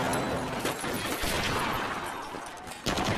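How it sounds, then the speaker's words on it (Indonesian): A burst of gunfire from a police ambush on gangsters in a crime film shootout, loud and dense throughout with overlapping shots and no talk. "mereka disergap oleh tim kepolisian dan terjadilah baku tembak"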